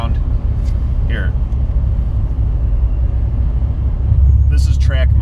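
Exhaust of a 900 hp C7 Corvette Stingray, routed through its mufflers, rumbles as a deep steady drone from inside the car while accelerating, swelling slightly near the end, with a person talking over it.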